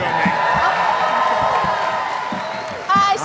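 A large convention audience at a Comic Con panel cheers and claps, a dense steady roar with whoops and scattered claps that fades slightly near the end, where a single voice cuts in briefly.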